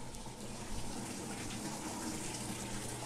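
Water being drained out of a heavy sand-bottomed fish tank, a steady continuous rushing and gurgling flow at moderate level, close by, with no talking.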